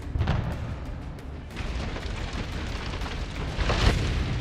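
Deep, rumbling blast from a Ukrainian drone strike on a Russian Tulpan mortar vehicle, a sustained low roar with crackling bursts that swells again near the end, heard from a distance.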